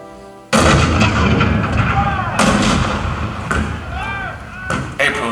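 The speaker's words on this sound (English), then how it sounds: "The cannon spoke for war, bitter, violent, and devastating." Booming cannon fire in the Fort Sumter scene of a theatre show, with a loud blast at the start followed by further heavy shots and a continuous rumbling barrage mixed under a dramatic soundtrack.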